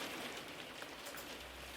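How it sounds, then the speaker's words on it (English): Faint, steady patter of light rain hissing on a surface, continuous and soft with no voices. "it's just starting to rain"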